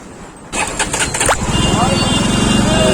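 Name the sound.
Jawa motorcycle engine accelerating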